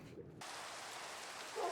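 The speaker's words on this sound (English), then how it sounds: "as I hit the record button, it started raining" Rain starting to fall, a steady soft hiss of drops that begins abruptly and holds at a moderate level, with a slight swell at the end.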